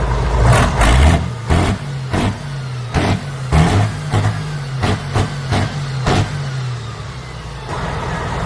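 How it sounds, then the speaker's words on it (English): A custom off-road truck with a Tatra V12 engine revs hard in repeated loud bursts, each throttle blip rising and falling over a deep steady rumble, heard close. "That's a custom off-road beast powered by a Tatra V12 engine."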